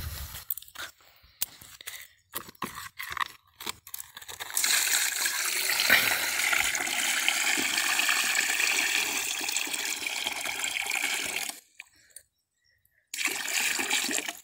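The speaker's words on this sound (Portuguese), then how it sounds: "Vou colocar uma aguinha aqui, rapaziada." Water is poured steadily into a small tank for a feeding spot, a continuous splashing gush after a few scattered knocks and rustles, which stops briefly near the end and then resumes.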